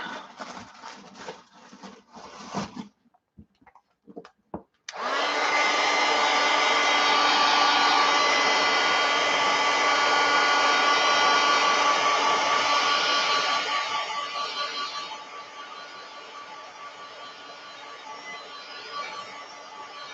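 Hair dryer drying paint on a mixed-media abstract painting, switching on after a few seconds of handling noise and blowing loud and steady, its tone shifting partway through as it is moved.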